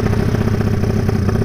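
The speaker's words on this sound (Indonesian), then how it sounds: "kalau kalian dengerin langsung itu berisik banget loh knalpotnya" A Tiger 300cc motorcycle with a rebuilt engine runs steadily and loud, its exhaust giving a continuous rough, throbbing engine note close by with a clattery edge and no voices.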